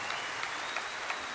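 A large audience applauds at the Grand Ole Opry, a dense continuous clatter of many hands heard from within the hall, steady and unbroken for the whole moment.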